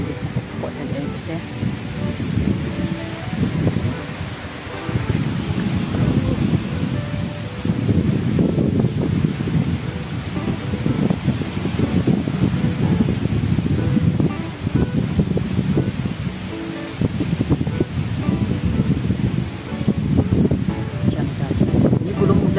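Strong wind gusting outdoors behind a house with trees, a loud continuous rushing roar that swells and eases in waves, with a voice talking over it.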